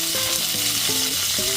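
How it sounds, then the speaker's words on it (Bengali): Chopped tomato sizzles in hot oil with frying ginger while cooking chana dal, a steady close frying hiss throughout with a few brief tonal clinks over it. "তারপর দিয়ে দিচ্ছি একটা মিডিয়াম সাইজের একদম কুচি করে নেওয়া টমেটো।"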